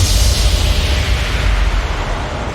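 A deep, sustained rumbling boom with heavy low-end energy, loud and continuous throughout, like a cinematic impact tail rolling on without pause.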